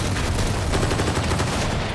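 Rapid gunfire in a cartel film raid scene, dense overlapping shots crackling close and loud in a continuous burst.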